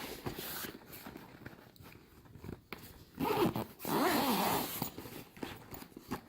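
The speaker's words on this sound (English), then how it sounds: "Zip it up." Zipper pulled shut on a Nintendo Switch messenger bag, close and crisp, with a few short tugs and rustling fabric followed by two longer, louder zipping runs.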